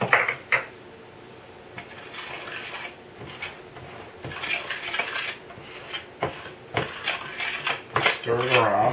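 Cannoli shell dough being stirred in a bowl, giving soft scraping and clinking of a utensil against the dish with scattered knocks and clatter, close by, with occasional voices in the background.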